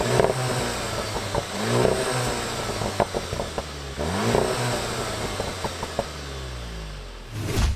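A Seat Leon Cupra 290 engine revs and accelerates as the car pulls away, pitch rising and falling through gear changes, loud and close.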